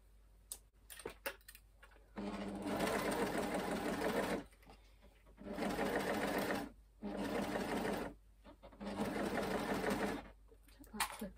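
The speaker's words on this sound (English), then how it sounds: "So I'm going to overlock at this point all the way around the hem." An overlocker stitches around a tee shirt hem in four sustained whirring runs, each a few seconds long and separated by short pauses, close and loud, with a few clicks and handling noises at the start.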